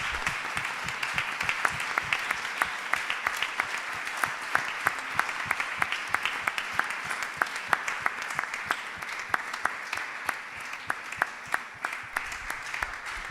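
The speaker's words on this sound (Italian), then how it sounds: "Facciamo un applauso al nostro Signore." A church congregation applauds at an Easter service, a steady dense wash of many hands clapping that carries on for the whole stretch with no speech over it.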